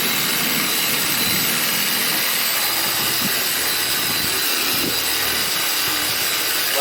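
Machine polisher running steadily as it spreads wax across the paint of a 2018 Audi A3, a loud continuous whirring hum with rubbing texture and no talk.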